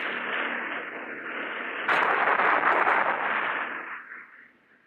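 A Cobra attack helicopter fires its weapon: a sudden loud, rough burst breaks out over a steady muffled engine roar and then fades away, with a narrow, old-recording sound.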